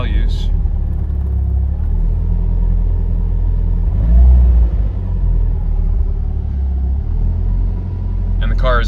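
A Nissan S13 with an SR20 engine idles with a deep, steady rumble, briefly swelling around the middle before settling back to a constant low drone.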